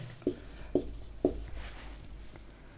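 A pen writing out a quadratic equation problem makes three distinct tapping strokes in quick succession, then fainter scratching, all quiet and close with no talking.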